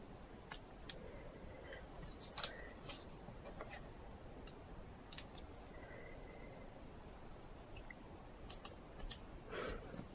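Small scissors snip dimensional foam adhesive pieces in half during papercraft card making, a few faint, sharp clicks scattered over a quiet hiss, up close and alone.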